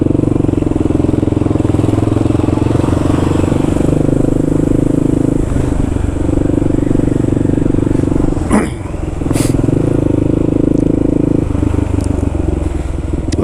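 A motorcycle on carbide-studded tires rides through snowy New York City streets, its engine droning steadily and loudly throughout with a brief clattering scrape near the middle.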